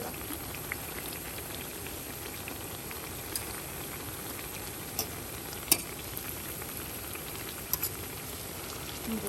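Banana fritters frying in oil make a continuous bubbling sizzle, close and even, punctuated by a few sharp pops, with no talking.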